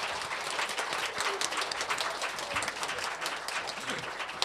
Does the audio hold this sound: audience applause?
yes